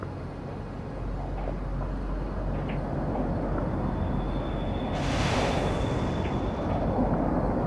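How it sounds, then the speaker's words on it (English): In the video game World in Conflict, a cluster bomb strike lands on open dirt, a dense, sustained rumbling roar of many blasts with a hissing burst near the end, loud and continuous. "Cluster bomb hit nothing but dirt."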